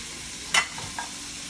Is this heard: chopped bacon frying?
yes